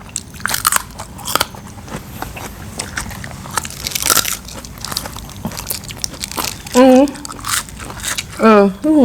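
Crisp bites and crunchy chewing on spicy Thai food, repeated close crunches throughout, with a person's voice breaking in between the bites.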